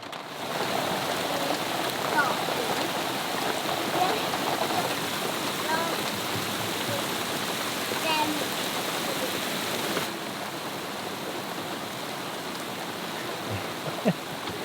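Steady rain pours down with a constant dense hiss, close and loud throughout, with a few scattered drips and faint background sounds.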